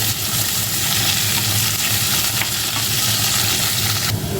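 Ivy gourd (kovakkai) sizzles as it sautés in a pan for a Jaffna-style curry, a loud, dense, continuous frying hiss with faint stirring scrapes and no talk.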